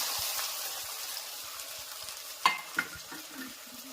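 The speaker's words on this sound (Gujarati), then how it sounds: "પછી લીલા મરચા વટાણા હવે નાખ્યું બટેટા" Potatoes tipped into a pan with green chilies and peas fry with a soft, steady sizzle, broken by a couple of sharp clinks as they drop in and get stirred.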